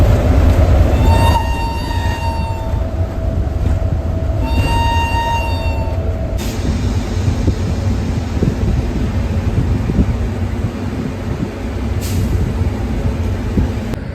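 An Indian Railways locomotive engine runs with a loud, steady rumble that holds for the whole stretch, with a few high whistling tones near the start.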